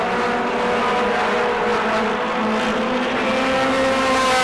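Modified race cars in a Mod Mini 50 at New Smyrna Speedway roar around the track, a loud continuous engine drone with sustained high whining tones and no voices.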